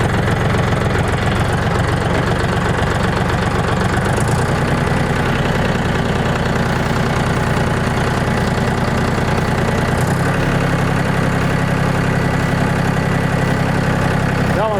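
A DTZ 354U tractor engine pulls away in first low gear, chugging loud, close and steady with a knocking diesel rhythm, and its pitch shifts slightly as it drives on.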